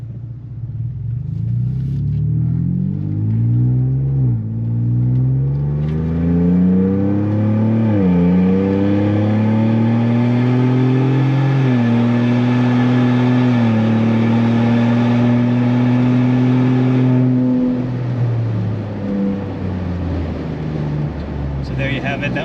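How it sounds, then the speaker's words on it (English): A 2021-or-later Ford Bronco with a Flowmaster Outlaw axle-back exhaust pulls uphill under heavy load. Its loud, deep exhaust note climbs through several gear changes, then drops off as the throttle closes. "We have a nice uphill area here which will load the exhaust a good bit without needing to do any excessive speeding"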